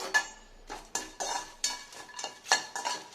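Whole spices for homemade garam masala dry-roast in a pan, stirred with a utensil that scrapes and clatters against the metal in repeated, uneven strokes, fairly close and with no voices.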